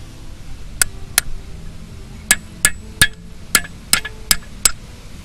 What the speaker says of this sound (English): I'm taking this punch and we're gonna put this through there so I can remove the pin that holds the brake pads